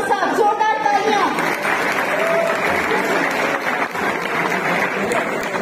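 An audience at a classical music festival in Alhamra Hall, Lahore, breaks into strong, sustained applause for a ghazal singer, with dense clapping filling the hall and light crowd murmur underneath.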